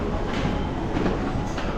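Seoul metro subway train running with a steady rumble and rolling rail noise throughout, loud and close, no talk.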